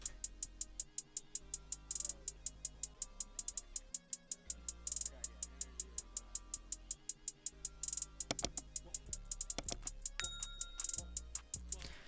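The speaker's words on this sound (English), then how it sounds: "Next sound is the hi-hat," Trap beat remake hi-hats tick in a fast, steady run of crisp metallic hits, broken by quicker rolls and stutters, playing alone at a moderate level.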